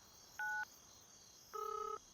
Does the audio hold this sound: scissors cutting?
no